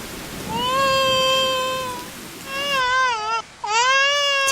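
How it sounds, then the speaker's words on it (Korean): Heavy rain pours down in a constant hiss in Ethiopia during the rainy season. Over it, a twin baby cries close by in long, wavering wails, with a brief pause before the crying resumes. "잘 자나 했는데 쌍둥이 막내 가이태가 빗소리에 놀랐나 봅니다"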